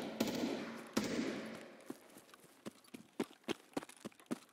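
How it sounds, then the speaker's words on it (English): Gunshots in a video game ring out as a run of sharp, evenly spaced cracks after a louder opening blast, the reports coming one by one and fading back to quiet in between. "It's just me popping shots"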